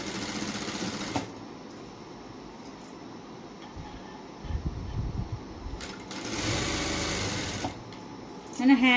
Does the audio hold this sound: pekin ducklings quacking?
no